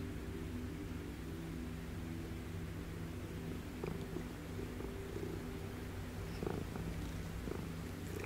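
A friendly cat purrs steadily close by in a quiet spring garden, a continuous low rumbling that holds even throughout with only faint background hiss.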